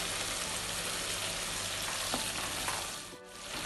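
Korma paste stir-frying in a pan for a beef korma, a dense, loud, unbroken sizzle filling the whole stretch, with a brief dip near the end as the paste is stirred.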